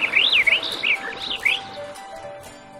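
Small birds whistle and chirp in a bright, looping song, several rising and falling phrases close by, fading out toward the end over a quiet outdoor background.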